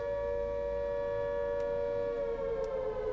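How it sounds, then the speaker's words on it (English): An air raid siren wails steadily over a city, a sustained droning tone holding at one pitch throughout, loud and unbroken with no voices. "Why are there air raid sirens in a city?"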